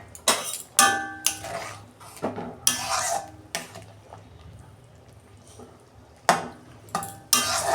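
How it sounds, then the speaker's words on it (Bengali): A metal lid is lifted off a pot of fish curry cooked with mango, giving several sharp clanks and clatters with quieter kitchen rustling between them. "এই যে ঢাকনা খুলছি বন্ধুরা"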